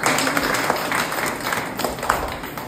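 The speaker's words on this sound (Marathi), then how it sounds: "पुन्हा एकदा जोरदार टाळी स्वागत करा" A small audience claps for a child at a community session, a soft, steady patter of applause heard from a slight distance, fairly faint and even for a couple of seconds.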